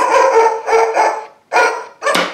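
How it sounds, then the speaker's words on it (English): Battery-powered toy dog found at a flea market barking in four quick, loud electronic bursts, alone with short pauses between them. "He barks."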